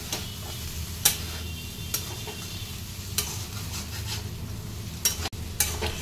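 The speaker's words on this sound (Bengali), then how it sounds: "সব কিছুর সঙ্গে বাজরা ফ্লেক্সটাকে খুব ভালো করে মিশিয়ে নিতে হবে" Bajra flakes are stirred and mixed in a pan, quiet low sizzling under sharp intermittent clicks and scrapes of a spoon against the pan, close with no voices.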